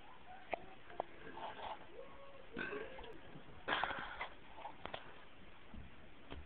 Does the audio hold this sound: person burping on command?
yes